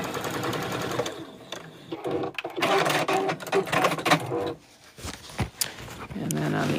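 A sewing machine runs in rapid buzzing bursts while stitching back and forth over a seam on a zipper pouch with a waterproof lining, stopping briefly between passes, with a voice talking at times.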